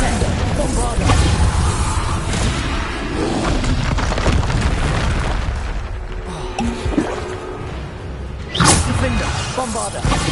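Bombarda explosion spell in Hogwarts Legacy: heavy booming blasts mixed with crashes and whooshes amid constant loud game action, a sharp bright burst near the end.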